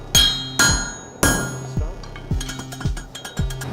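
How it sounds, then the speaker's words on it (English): Heavy hammer blows ring on hot iron while forging a sword, in an uneven rhythm, a few big strikes followed by a run of quicker, lighter taps, close and loud. "I will guide you with where I'm striking with my hammer"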